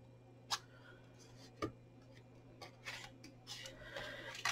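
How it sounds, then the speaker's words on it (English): Scissors snip through card while a corner is cut for a small jewellery gift box, a few quiet, crisp cuts spaced apart with light rustling in a hushed room. "Go to your triangle point there and just cut it right up."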